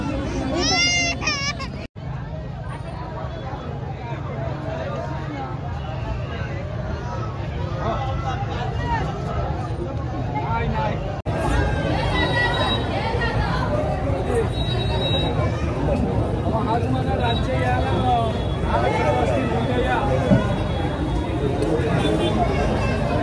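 Dense crowd hubbub at a palanquin procession for a goddess, many voices overlapping continuously with children among them, loud and close, steady throughout.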